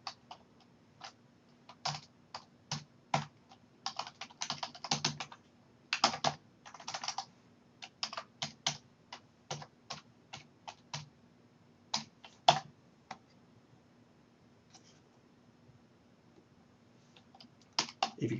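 A computer keyboard clacks through bursts of typing, with irregular clusters of crisp key taps and short pauses, close but quiet over a low steady hum.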